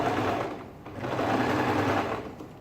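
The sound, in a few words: sewing machine stitching a ladies shirt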